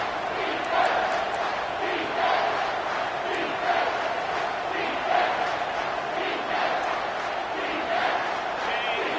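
Stadium crowd in a college football video game, Michigan versus Arkansas, a steady roaring cheer with rhythmic swells across the whole stretch, loud and continuous with no talk over it.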